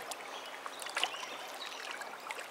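River water running over a fish weir on the Westfield River, a soft continuous trickling and gurgling with small splashes, quiet and steady, no voices.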